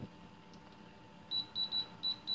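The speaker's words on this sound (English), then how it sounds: "I don't know if it just stops beeping or I don't know. We'll let it beep for a second." A Dash mini waffle maker gives a series of five quick, high electronic beeps in an irregular rhythm over a low, steady hum.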